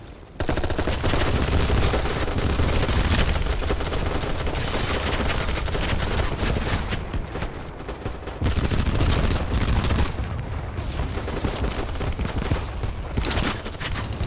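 Nonstop automatic gunfire and overlapping volleys from the shooter game BattleBit, dense and loud for about fourteen seconds, with brief dips before the rattling firefight swells again.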